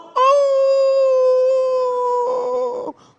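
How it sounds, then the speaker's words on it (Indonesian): A single dog howls in one long, sustained, wavering note for nearly three seconds, close and loud, then breaks off. "terdengar suara anjing melolong"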